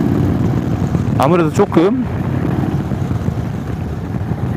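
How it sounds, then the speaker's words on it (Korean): An Indian Sport Chief cruiser rumbles loudly while being ridden, a steady low exhaust drone under wind noise, with someone talking briefly over it partway through. "실제로 타고 달리면서 느끼는 엔진의 배기나 고동감"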